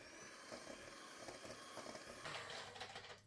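An electric hand mixer whirs steadily as it beats an egg into a batter for melt-in-the-mouth tea cookies, a continuous close mechanical hum running for a few seconds with no talk.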